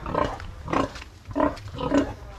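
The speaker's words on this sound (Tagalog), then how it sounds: "Ito yung baboy ko mga nganakin." A mother pig that has recently farrowed grunts close by, four rhythmic grunts about half a second apart, loud and clear against a quiet background.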